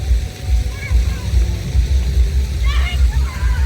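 Sea waves washing against the Odesa shore, a low rolling surge and wash that swells and recedes, with a few faint bird calls and a voice talking nearby.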